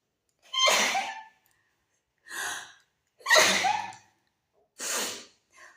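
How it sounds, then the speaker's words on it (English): Several sharp, breathy sneeze-like bursts sound close up, spaced out with silence in between, the later ones softer. "sorry guys, I sneezed"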